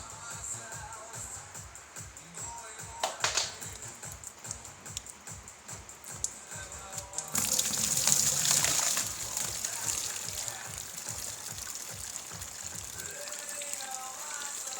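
Plain water is flushed through the oil cooler circuit of an Audi V8 engine, splashing and trickling unevenly close by, with a louder gush partway through, then continuing as faint dripping.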